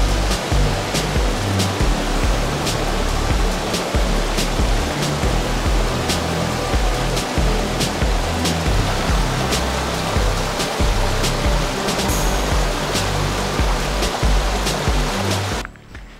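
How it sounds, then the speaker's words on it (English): The Yellowwater River in Rostrevor Forest rushes past a walkway in a steady, broadband roar that stays loud and continuous, with no talk, until it drops away abruptly at the very end. "I found the wee walkway down beside the Yellowwater River"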